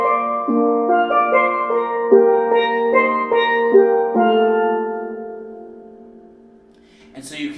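Double second steel pans ring out a melody with lower harmony notes struck beneath, bright metallic tones in a relaxed rhythm that ends in a sustained decaying chord before a brief noise.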